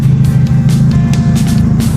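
An old car's engine drones loudly and steadily on a road test in Baguio, with a heavy low rumble and harsh rattling pulses repeating throughout.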